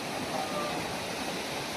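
Steady broadband rush of a waterfall set up inside the Anasuya Matha temple grounds, a continuous even wash of falling water filling the whole short stretch without pause.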